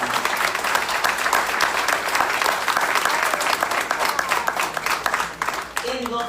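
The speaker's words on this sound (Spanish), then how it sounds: "Si le vas a dar un aplauso," A church congregation applauds, a dense, loud wash of many hands clapping that carries on steadily for several seconds before thinning out at the end.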